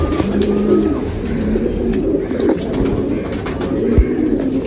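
A fancy domestic pigeon, a prized breeding bird kept by a pigeon fancier, coos softly in a steady low murmur amid other birds and ambient background noise, with no talk over it.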